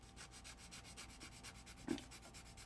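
Quiet, rhythmic back-and-forth sanding on the seam of a plastic model kit, soft repeated strokes with one brief louder knock near the end.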